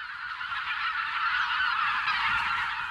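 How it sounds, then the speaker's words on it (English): A large flock of wild bean and white-fronted geese honking continuously over a river, a dense chorus of overlapping calls at a moderate distance, with no voices. "The wild geese are back."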